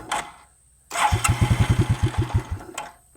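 Carbureted engine on an old shop machine coughs, then catches and starts, settling into a fast, rhythmic popping idle close by, running on its own for a couple of seconds before a brief pause.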